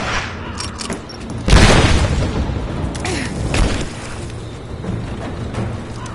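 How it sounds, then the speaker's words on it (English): A grenade explodes in Rise of the Tomb Raider with one loud, sudden boom partway through, followed by rumbling debris and a continuing noisy game soundscape. "Throwing a grenade!"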